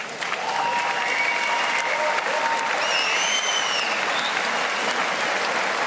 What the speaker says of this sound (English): how about a round of applause for both fighters?